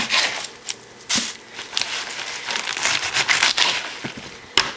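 Knife cutting the ends off lettuce heads, crisp crunching and crackling cuts with rustling leaves, close and fairly quiet, several sharp snaps spread across a few seconds.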